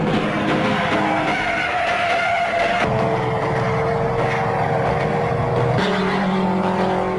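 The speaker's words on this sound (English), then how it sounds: "The leaders streak past the grandstand after the early laps, with Mercedes, Jaguars and Ferraris well to the fore." Mid-1950s Mercedes, Jaguar and Ferrari sports racers at Le Mans 1955 roar past a grandstand, loud engine drones rising and falling in successive pass-bys over a constant crowd-and-track din.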